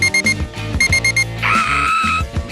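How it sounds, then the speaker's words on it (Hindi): An alarm clock rings with rapid, loud, pulsing beeps that shift into a sustained electronic trill, close and clear with no talking. "एक अलार्म जो मुझे नहीं चाहिए था"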